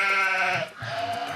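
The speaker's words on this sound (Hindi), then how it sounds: "बकरी है, बकरी आई है, बकरी, बकरी आई है" A goat bleats loudly and close by in one long wavering cry, breaks off briefly, then bleats again, with no talk over it.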